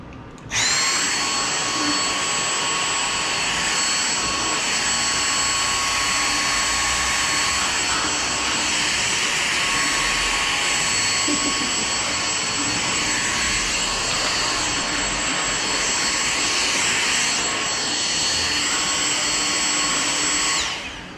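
A household vacuum cleaner whines steadily and loudly for about twenty seconds, a constant high-pitched motor drone that starts and stops abruptly.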